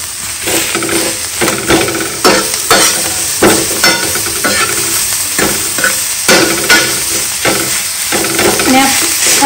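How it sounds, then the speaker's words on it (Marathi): Green chilli thecha roasting and being stirred in a hot pan gives a steady loud sizzle, with repeated scraping stirs cutting through the frying hiss close by. "ठेचा भाजून वगैरे रेडी झालेला आहे"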